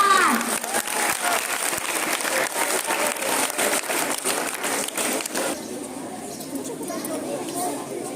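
Crowd applause rings out at an Independence Day celebration, loud continuous clapping for about five seconds, with chatter under it, then fading to quieter background murmur.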